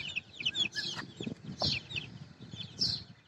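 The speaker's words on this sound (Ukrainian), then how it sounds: "Дивіться, як вже розбіглися мої курчатка." Chicks cluck and chirp in short repeated bursts close by, with soft scuffling in the background, in a village yard.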